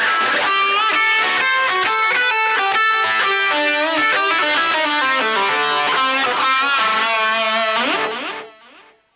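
An electric guitar solo, distorted and run through effects, plays fast, dense runs of notes loud and up close for about eight seconds, then cuts off abruptly with a brief ringing tail.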